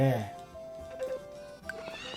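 A horse in the farming game Story of Seasons: Friends of Mineral Town gives a short whinny, with someone talking over the top and soft game music.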